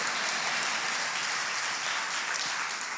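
A church congregation applauds during a Spanish-language Sunday morning service, a dense, steady patter of many hands clapping at once with no pause.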